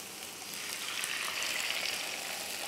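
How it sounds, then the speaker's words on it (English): Eggs fry in a hot pan beside vegetables, giving a steady, close, bright sizzle that swells slightly after the start and holds without talk. "In go my eggs."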